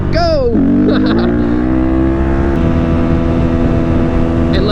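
A Honda CRF150RB dirt bike engine drones loud and steady in a high gear on a straight road, with a rising then sustained pitch and brief bursts of wind and rider noise.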